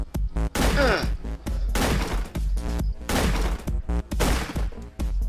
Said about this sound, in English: It's fun shooting stuff.